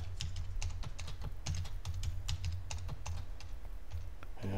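A passphrase is typed on a computer keyboard: quick, fairly close keystrokes in an uneven rhythm. The tapping is quiet, and near the end it gives way to a louder click or thump.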